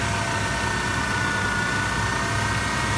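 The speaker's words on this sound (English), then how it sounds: "So engine RPMs are high right now." A pre-1996 Ford F-150 engine roars at high RPM, holding a high, even pitch, loud and close, with a broad hiss and no talking.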